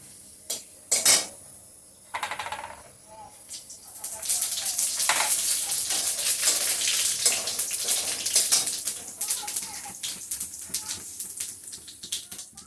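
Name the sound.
whole cumin seeds frying in oil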